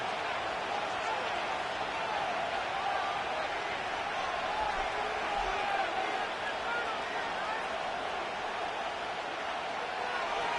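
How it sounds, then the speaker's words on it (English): Steady roar of a stadium crowd in a Madden football video game, a dense continuous wash of cheering that swells slightly midway, with speech mixed in over it. "Crowd noise rises."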